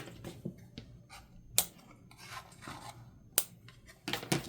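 Scissors snip through leftover paper ends during a handmade ephemera craft, with a few sharp separate cuts standing out among softer rustling and handling sounds, close by and with no one talking.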